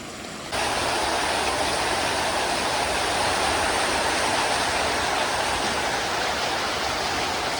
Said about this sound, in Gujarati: ફૂલ વરસાદ પડી રહ્યો છે અત્યારે ભયંકર વાવાઝોડા વરસાદ સાથે